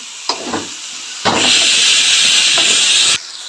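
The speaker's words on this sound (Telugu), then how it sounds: "ఇప్పుడు ఆనియన్స్ వేస్తున్నా" Onions dropped into a hot pan for a hotel-style amaranth and raw mango dal, setting off a loud, close hissing sizzle that swells suddenly, holds for nearly two seconds, then cuts off abruptly.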